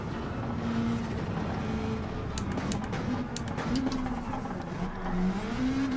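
A race car in Gran Turismo 7 revs and slides steadily under hard driving, with a constant engine drone and pitch that rises and falls and brief tyre-squeal bursts, no talking.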